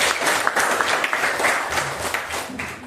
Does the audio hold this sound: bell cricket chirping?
no